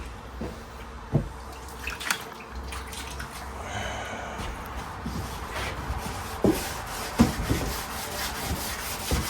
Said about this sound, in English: Just sand it until it's smooth.